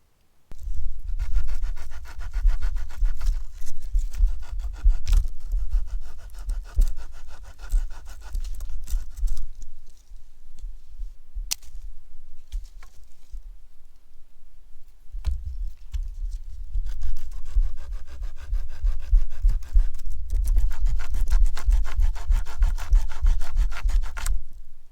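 A small dollar-store multi-tool saw rasps back and forth through wood in a close, steady rhythm of scratchy strokes, pausing briefly midway before the sawing resumes.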